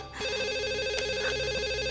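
An Indonesian TV drama telephone rings with a warbling, pulsing tone that repeats at a regular rhythm. It sounds moderately quiet and steady, with no voices over it.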